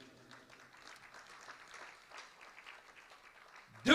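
A church congregation applauds Jesus with faint, continuous, distant-sounding clapping, ending in a sudden loud burst of noise.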